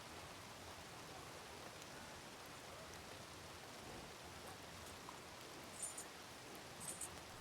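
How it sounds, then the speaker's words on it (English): Soft, steady rain hisses continuously in a Red Dead Redemption 2 game scene, faint and even throughout, with a couple of brief light ticks near the end and no talk. "Oh, it is raining."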